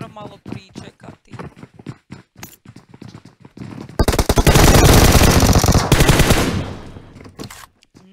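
Gunfire in PUBG Mobile: rapid bursts of automatic shots in quick rhythmic strings, rising into a loud sustained volley with dense reports near the middle before trailing off to scattered shots.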